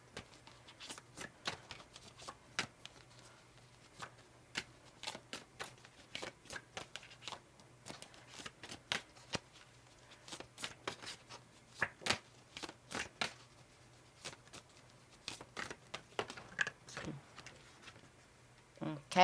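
Large oversized tarot cards shuffled by hand in a quiet room, a long run of soft, irregular riffling clicks and slaps close to the listener, with a faint steady hum beneath and no talking.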